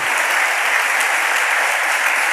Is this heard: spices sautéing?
no